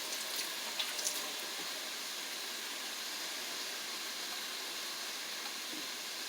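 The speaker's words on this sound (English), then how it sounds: "Wash my hands here." Water from a kitchen tap runs steadily as hands are washed, a constant close hiss of flowing water with a few faint splashes near the start, and no talk.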